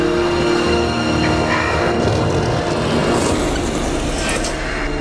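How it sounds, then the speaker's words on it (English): Electric train rolling past, a steady loud rumble of wheels and rail noise with faint squeal, filling the whole stretch without letting up. "Electric trains are linking people around the planet."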